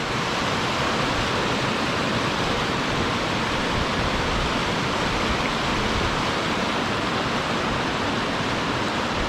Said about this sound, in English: Trying to get a good view of the waterfall.